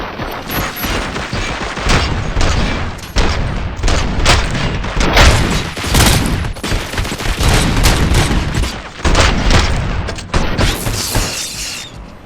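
Loud, sustained gunfire in RoboCop: Rogue City: dense volleys and rapid bursts with heavy booms and shattering impacts, almost unbroken for the whole stretch.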